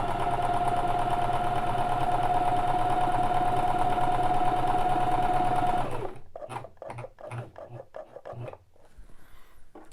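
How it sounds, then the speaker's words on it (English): A bernette Sew&Go 1 sewing machine stitches one side of a buttonhole with a steady, loud, fast mechanical whir for about six seconds, then stops, leaving quieter handling clicks and rustling of fabric. "now at step 4, it's going to stitch down on the right side"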